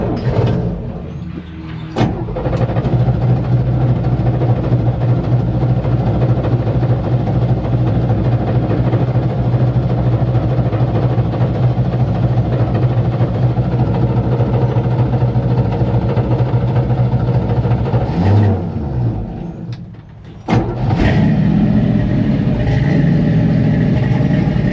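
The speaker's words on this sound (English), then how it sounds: "You heard it just spin that motor over like it was nothing" A 1962 Chevy C10 engine on a Weize AGM battery, turning over and then running with a steady, loud, continuous mechanical drone close to the microphone, briefly dipping near the end before resuming.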